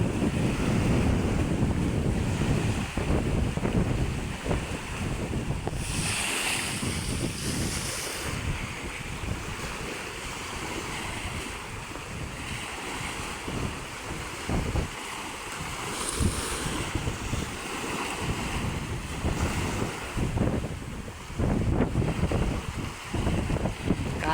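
Strong wind roars steadily by the sea, a low buffeting rush with waves surging underneath, continuous throughout and no voices.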